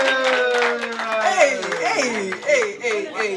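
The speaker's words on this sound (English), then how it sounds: "Everybody clap" A group claps for a girl at a gathering, with children's voices talking and singing-like tones over the brief, steady patter of hands close by.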